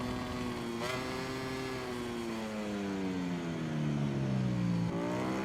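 A racing motorcycle in MotoGP 22 powers hard out of the final corner at Sepang toward the finish line, its engine note holding a steady, loud, rising-and-falling whine with harmonics through several gear changes.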